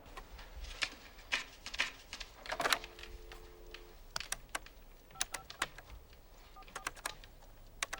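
Phone keypad being dialed in a quiet doctor's office in Medford, a run of close, crisp clicks and short tones in an irregular rhythm, with one brief held tone partway through.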